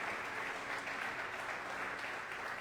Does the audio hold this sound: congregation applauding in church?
yes